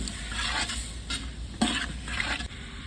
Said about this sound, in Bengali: ঘুরতে দেবো এবারে সব কিছু দিয়ে